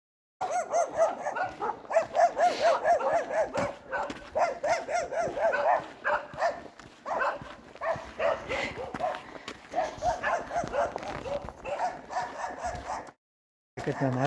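A village dog barks and yips in rapid bursts, loud and close, as someone walks past on a long countryside hike; short gaps separate the volleys.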